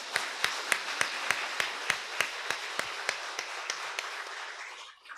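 A church congregation claps together during a Sunday worship service to welcome newly registered members and visitors, a steady run of sharp, rhythmic claps filling the room for about five seconds before fading out.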